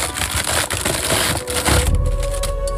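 Gift wrapping paper is torn and crumpled off a large, fairly light present, a continuous loud rustling and crackling close by with no talk over it.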